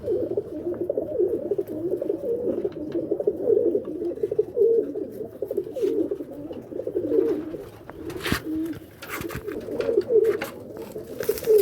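Pigeons in a loft coo continuously in low, rolling phrases, close and moderately loud, while cleaning goes on, with a few sharp knocks and scraping noises breaking in near the end.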